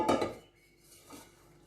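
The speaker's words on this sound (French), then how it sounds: "Je prends ma casserole" A metal cooking pot clanks and scrapes briefly up close, followed by a faint second knock, then quiet.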